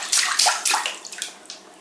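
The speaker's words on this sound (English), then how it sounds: "You playing in the bathtub?" Water splashing and sloshing in a bathtub as a child plays, a run of close, irregular splashes and gurgles that fade toward the end, with no talk over them.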